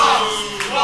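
A wrestling show crowd cheers for the winner after a knockout victory, a short, loud wash of voices and shouts from the arena with a few claps mixed in.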